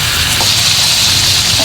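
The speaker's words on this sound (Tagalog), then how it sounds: "Magprito po ulit tayo." Pork steak fries in a pan with a steady, close sizzle and crackle that stays at an even level throughout the short moment.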